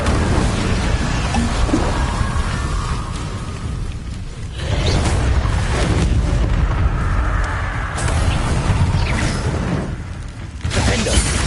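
A fire spell cast in the video game Hogwarts Legacy: loud, dense whooshing blasts with booming, crackling bursts that swell and drop back in several waves, with no talking over them.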